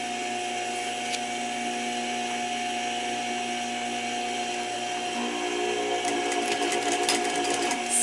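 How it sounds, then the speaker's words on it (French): A sewing machine stitching a second topstitch on a jeans-style pocket, a steady mechanical whir running continuously and close, growing slightly louder and busier with faint clicks toward the end. "Je vais aller faire ma deuxième surpiqûre."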